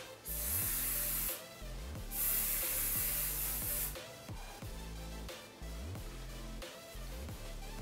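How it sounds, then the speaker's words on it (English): Sebastian Shaper hairspray is sprayed onto hair in two long hissing bursts that sound close and loud, with quieter background music running underneath. "I'm going to spray that all over my hair just to hold it."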